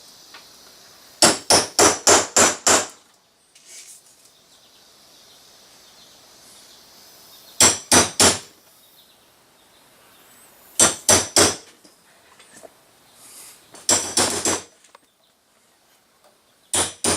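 Several bursts of sharp, rapid hammer blows striking a punch through a template into a wooden desktop pen organizer, loud and close, separated by quiet pauses.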